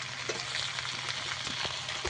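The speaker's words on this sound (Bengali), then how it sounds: "আদা রসুন আলু একসঙ্গে ভালো করে ভেজে নেবো একটু।" Potatoes, ginger and garlic fry together in a pan for a crab dish, giving a steady close sizzle with light stirring scrapes and a soft knock near the end.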